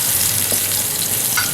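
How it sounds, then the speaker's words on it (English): Ginger frying in oil inside a rice cooker pot, a steady close hiss and sizzle stirred briefly, with no talk. "Now we're going to stir this until it's fragrant."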